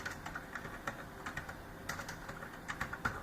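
Rapid, uneven clicking of keys on a computer keyboard as Java code is typed, close and fairly quiet, with short bursts and brief pauses and no talking.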